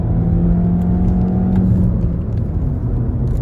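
A VW Passat B7 with a 1.4 TSI engine accelerates uphill from inside the cabin, a loud, steady low engine drone and whir rising gently in pitch, with no talking.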